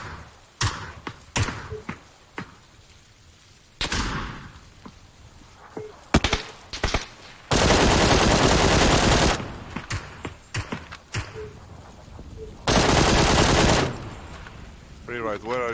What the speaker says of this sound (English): Shooting at the house northeast, 330.